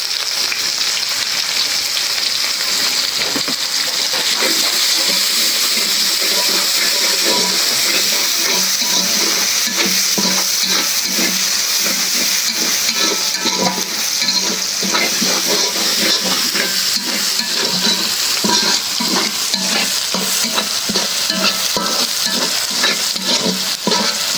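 Tukani greens frying with garlic and onion in a pan, a steady loud sizzle with continual stirring scrapes running close and unbroken throughout, no voices.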